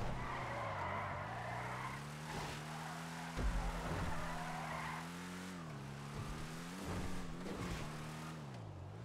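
Race car spinning out on the Los Santos street course in GTA Online, a steady engine drone with a long, wavering tire skid and squeal running through the whole spin, loud and close with no talk.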